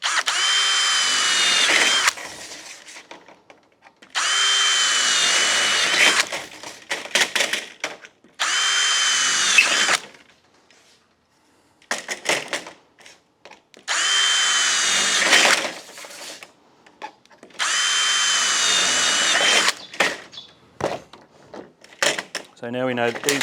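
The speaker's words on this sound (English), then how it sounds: "we're drilling, and again it's always pre-drilling a 6mm hole in through the aluminium" A power drill pre-drills 6mm holes through aluminium while a garage door seal is installed, whirring in about six loud bursts separated by quiet gaps and light handling clatter.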